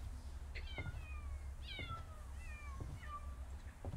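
Several cats meow in the video game CopyCat, a run of four or five clear, rising-and-falling meows spaced about a second apart over a steady low hum, with no talking.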